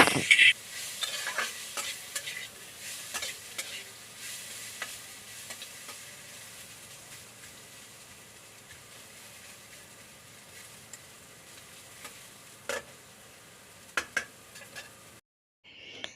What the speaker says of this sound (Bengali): এখানে উচ্চ আলুটাও ভাজা বসিয়ে দিয়েছি